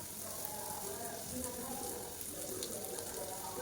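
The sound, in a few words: frying shredded tuna (tongkol) until half-cooked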